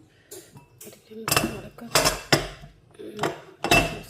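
Metal utensils clink and scrape against dishes in several sharp, close bursts while fried macaroni is served onto a plate, with quiet pauses between the knocks.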